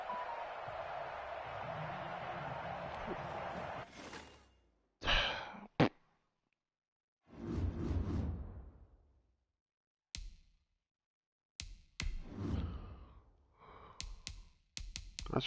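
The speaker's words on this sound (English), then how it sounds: "I can hear you breathing" Heavy, audible breaths puff close into a microphone as a player plays Madden 21, coming as a long exhale followed by several separate short sighing breaths with silent gaps between them.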